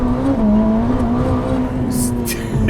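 A Ferrari SF90 Hybrid idles with a steady, close engine hum, a constant low drone with no revving, briefly joined by a couple of faint clicks near the end.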